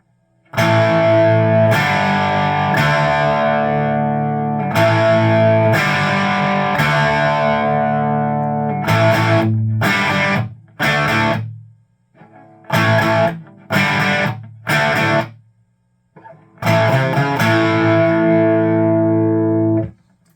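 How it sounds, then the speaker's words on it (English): An electric guitar on the bridge pickup plays straight into an amp with no pedals, crunchy overdrive: sustained chords ring out, then short choppy strums with brief silences between, then another held chord. "So this is guitar straight in, no pedals."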